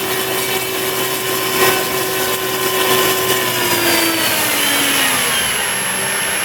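A Park Zone 480 electric motor spinning an APC 3-blade 10x7 propeller at full throttle on a test stand gives a loud, close, steady whine with a whooshing rush, its pitch shifting slightly as it spins.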